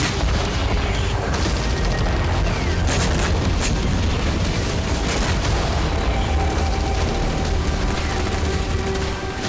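Loud, continuous barrage of booms and blasts from attacks on Galilee, Israel, dense rumbling explosions overlapping without pause across the whole stretch.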